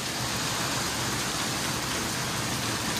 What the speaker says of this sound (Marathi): इथे पाऊस बघा, किती मोठा पाऊस आला आहे